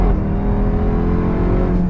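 A 2024 Dodge Durango SRT Hellcat performance SUV accelerates hard, its engine giving a loud, sustained, close roar heard from inside the cabin.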